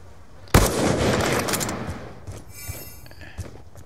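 Sniper rifle gunfire in the video game Black Ops 2: one loud, sharp shot cracks near the start, and its boom trails off over several seconds, with faint clinks and small thuds after it.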